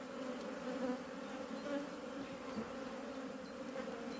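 Many honeybees buzz around an open hive colony in a constant, droning hum, near and soft, with slight swells in intensity and no speech.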